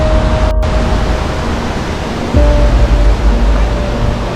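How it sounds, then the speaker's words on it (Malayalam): Orappankettu waterfall near Thrissur, a rocky cascade giving a steady, broad rushing roar of falling water that holds throughout, growing slightly fuller partway through, with no talk. "ഇങ്ങനൊരു വെള്ളച്ചാട്ടം, നൈസ് വാട്ടർഫോൾസ് ആണല്ലോ."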